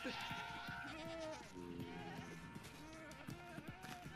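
A Minecraft sheep bleats in the Caves and Cliffs update, short wavering bleats repeated over game sounds, with laughter and a voice talking in the background.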